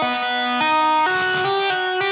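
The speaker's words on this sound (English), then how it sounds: "That is called a double tap." Electric guitar double tapping, each note tapped then pulled off twice before moving down, giving a string of bright ringing notes with sharp attacks every half second or so, close and clear with no talk.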